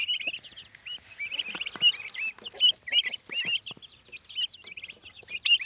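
Chicks chirp and peep continuously, a busy cluster of high, repeated calls close by with soft clucking, no talking.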